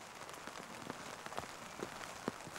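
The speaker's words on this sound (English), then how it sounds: "Okay, so it's raining" Rain falls steadily on a dreary day, a soft continuous patter with scattered louder drops, heard alone without voices.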